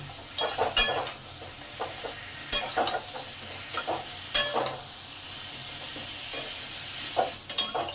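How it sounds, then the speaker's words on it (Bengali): Pointed gourd stir-fried with salt and turmeric in a pan, a low sizzle beneath intermittent scraping and clacking strokes of a spatula against the pan, close up with no talking. "এবার পাঁচ মিনিট পটলটাকে ভালো করে কষে নেব"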